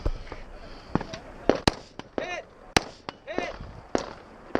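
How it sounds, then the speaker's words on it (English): A rifle fires repeatedly at five steel targets on a shooting stage, sharp close reports ringing off metal at an uneven pace, with a voice talking under the shots. "I reload so I have a full magazine to re-engage the same 5 steel targets"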